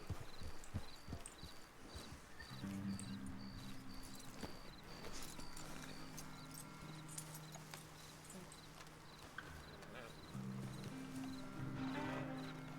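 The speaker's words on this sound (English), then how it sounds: "There's a lot of horses here." Several horses walk near a camp, their hooves clip-clopping in an uneven, continuous rhythm, with occasional whinnies and low background noise throughout.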